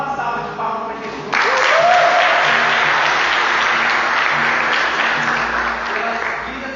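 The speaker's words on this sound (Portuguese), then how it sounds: "Então vamos dar uma salva de palmas para Jesus." At a church youth service, a voice trails off and a congregation then bursts into loud, full applause that swells suddenly and carries on as a thick, continuous roar of clapping before easing slightly.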